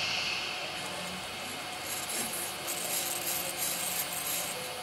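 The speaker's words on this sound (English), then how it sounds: "You're gonna hear the noise of the filament going back and forth" A continuous scraping, rubbing mechanical noise with a faint whirr, steady and close, as 3D printer filament is drawn back and forth through an ERCF filament changer.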